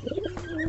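A young white fantail pigeon gives a short, close coo, a soft low throaty burst lasting under a second.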